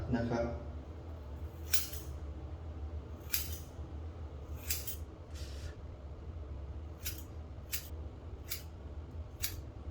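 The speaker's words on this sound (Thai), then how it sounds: "แล้วก็ใช้กรรไกรนะครับ" Scissors snipping hair during a home haircut, a series of sharp, quick metallic snips at irregular intervals, some in close pairs, against a steady low room hum.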